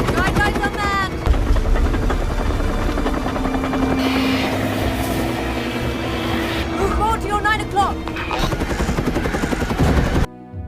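A helicopter drones steadily through the clip, its engine hum blended with music and voices, loud and continuous before cutting off near the end.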